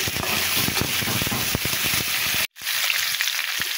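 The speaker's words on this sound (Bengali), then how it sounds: "চিচিঙ্গাটা আমি মিষ্টি কুমড়ার সঙ্গে একসঙ্গেই ভেজে নেবো" Pumpkin pieces fry in hot oil in a pan with a loud, crackling sizzle and scattered pops, briefly cutting out before the frying resumes close by.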